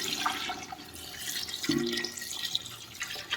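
About 1.25 liters of water splashes and trickles steadily into a pot for chicken biryani nearby, with a brief clank of metal partway through.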